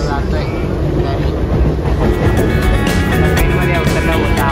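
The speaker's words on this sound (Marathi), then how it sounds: "ट्रेनमध्ये उतरला होता आवाज." Loud, continuous rumble from inside a moving train, with a deep steady roar of wheels on track and metallic rattling in the carriage.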